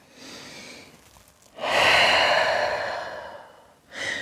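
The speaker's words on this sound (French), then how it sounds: "Grande respiration." A deep yoga breath during a dynamic vinyasa flow: a soft inhale, then a long, loud exhale through the nose and mouth, followed by the start of another breath, close and alone.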